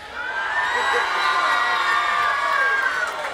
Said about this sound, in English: Let's hear the crowd.